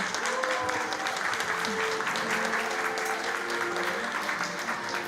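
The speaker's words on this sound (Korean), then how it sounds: "여러분 큰 박수로 환영해 주시기 바랍니다" Sustained applause from a crowd at a honorary police officer appointment ceremony welcoming a veteran actor, even and continuous at moderate volume, with voices faintly underneath.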